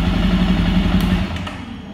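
A Jawa 42 Bobber motorcycle idles with a steady low thumping beat, then is switched off and the engine note fades toward quiet, with a couple of brief clicks near the end.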